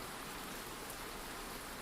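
Steady rain falling as a soft, even hiss with faint drops on a surface, continuous and close, no voices.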